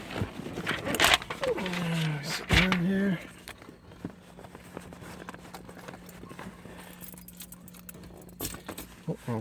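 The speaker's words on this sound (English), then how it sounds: "Oh, keys." A bunch of keys jangles in short metallic rattles at the start as they are fitted into the ignition of a Saturn Sky or Pontiac Solstice. Someone talks nearby, and the rest is quiet cabin noise.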